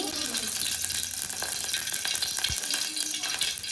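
Hot oil on a gas stove sizzles and crackles steadily in a pan, a constant hissing with occasional sharper pops.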